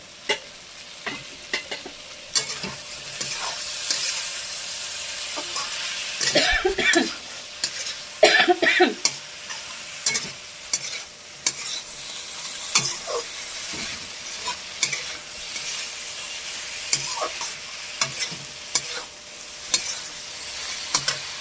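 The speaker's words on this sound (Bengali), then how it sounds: "এবার মাছগুলো আমি এর মধ্যে দিয়ে কষাবো।" Fish being stir-fried in hot mustard-style oil in a home kitchen pan, with soft continuous sizzling, scraping spatula stirs and a few brief clatters, steady and close without talk.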